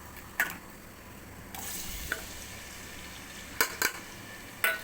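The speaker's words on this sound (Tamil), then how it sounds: "நான் எண்ணெய் ஊற்றி பட்டை போட்டிருக்கேன். இப்போ ஆனியன் போட்டுக்கலாம்." Onions hit hot oil with cinnamon in a pan, a low steady sizzle with a few sharp clatters and scrapes of a spoon against the pan, close and without talk.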